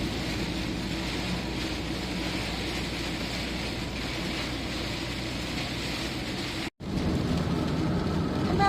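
Heavy rain pours steadily on a car during a drive along a seaside road, a dense continuous hiss with a brief dropout near the end.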